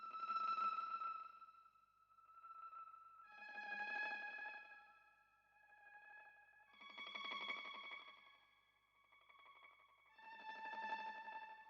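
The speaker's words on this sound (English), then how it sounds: "Next sound I added was this Mando pad from Mellotron." A Mellotron Mando pad plays a slow, dark lead line with delay, the notes echoing back as four soft, swelling phrases that each fade before the next begins; quiet, with no voices.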